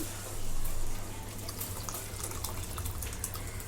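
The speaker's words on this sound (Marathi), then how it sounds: "आता हे मटकीचं पाणी आहे ना मी ह्याच्यात ओतून घेते" Moth bean cooking water poured from a pressure cooker into a pan of roasted spices for Kolhapuri misal, a steady close splashing pour that swells briefly at the start and then runs on evenly.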